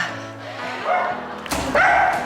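A small dog barks with a few short yips and whines at close range, over a faint background hum.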